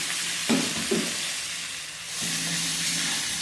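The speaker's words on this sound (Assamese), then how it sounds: "পিঁয়াজ আদা নহৰুখিনি ভালদৰে ভাজি হোৱাৰ পিছত ইয়াতে মই বিলাহীখিনি দিছোঁ" Tomatoes go into a pan of frying onion, ginger and garlic for an Assamese fish curry, giving a steady close sizzle with two brief stirring scrapes early on.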